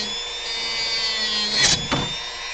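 A Dremel rotary tool carves a model sculpture, its steady high whine running close and continuous, with a couple of brief scraping bursts as the bit catches the edge.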